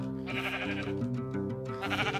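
Sheep in Minecraft bleat loudly and repeatedly in a nasal, wavering call, several bleats following one another close by, with no voices over them.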